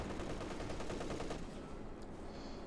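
Machine gun fire in the strategy video game Company of Heroes 2, a continuous dense rattle of rapid shots at moderate level that eases off toward the end, with no talking.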